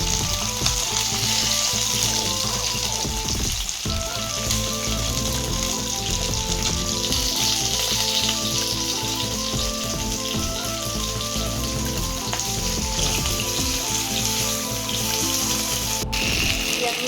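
Pieces of fish frying in hot oil, a steady dense sizzle and crackle that holds loud and even throughout, with a faint tonal melody running underneath.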